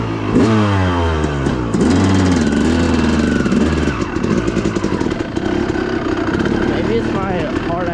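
A Yamaha TTR dirt bike engine runs loud and close after a kick start, rumbling with rising and falling revs at first and then settling into a rough, steady idle, while a person talks over it.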